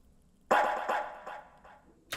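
A single dog, a male band mascot, barks a few times in a close, loud burst of woofs, with a last short bark at the end and no other sound.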